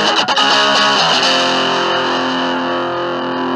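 Electric guitar through a tiny IK Multimedia iRig Nano Amp cranked to maximum volume, a loud distorted chord struck and left sustaining, rich in harmonics, with no talking over it.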